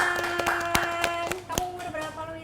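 Audience applause at a holiday cinema talk show event, a burst of sharp hand claps with some irregular, scattered timing, heard alongside voices in the room.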